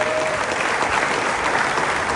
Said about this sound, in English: It's big round of applause for Eric.